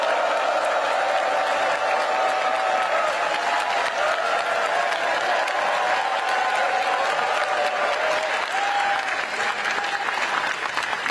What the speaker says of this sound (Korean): 열렬한 환호와 박수를 부탁드립니다.